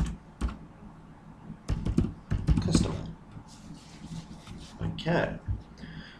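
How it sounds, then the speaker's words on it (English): Typing on a computer keyboard while entering an endnote in a word processor, bursts of quick key clicks mixed with someone speaking over them. "we can type this up as saying, this was created by value"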